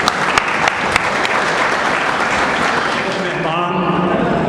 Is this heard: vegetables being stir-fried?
no